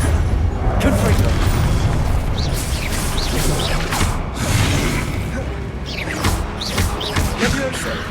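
Confringo fire spell from Hogwarts Legacy blasting in repeated booming explosions with crackling mechanical game effects, several bursts in quick succession over a dense in-game soundscape.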